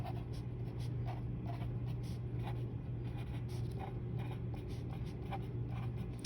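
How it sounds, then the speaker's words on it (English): A pen scratches out a row of polynomial coefficients in short, quick bursts of strokes, close and clear against a faint steady hum, with no talking. "Write down all of our coefficients."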